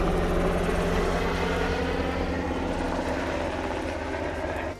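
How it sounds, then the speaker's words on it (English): A helicopter passes close overhead near the AUTEC front gates, producing a loud, steady blade thump and engine roar that fades slightly toward the end, with no talking. "A helicopter flies over."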